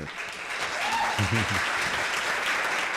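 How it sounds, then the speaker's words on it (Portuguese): A live podcast audience in Portugal applauds for a guest, a continuous dense spread of clapping with a short voice rising through the middle. "Começa com palmas."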